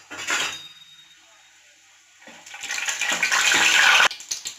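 Whole spices for chicken biryani sizzle and crackle in hot oil in a pan, starting with a brief splutter, quieting, then building into a loud, steady hiss of frying that cuts off abruptly near the end.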